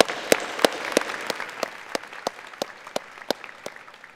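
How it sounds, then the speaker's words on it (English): Steady applause from an audience at the 2017 Heinz College Diploma and Awards Ceremony, with sharper claps rising out of the wash at a regular pace, moderately loud and without voices. "let's give him a good round of applause"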